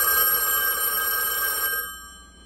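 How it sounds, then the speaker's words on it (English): Several 1A2 multiline key system telephones ring together on a PBX extension, a steady bright electromechanical bell trill that holds for about two seconds, then stops abruptly and leaves near silence. "it will provide the ringing signal for the phones that ring"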